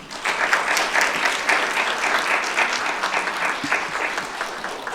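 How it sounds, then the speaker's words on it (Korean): Symposium attendees in a hall give steady, full applause for the next presenter, a professor, with dense clapping that stays even throughout. "박수로 청해 듣겠습니다"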